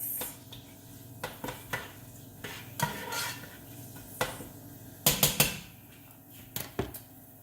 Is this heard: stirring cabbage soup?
yes